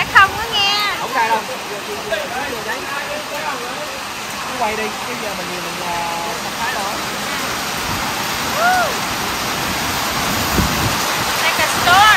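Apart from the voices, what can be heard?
heavy rain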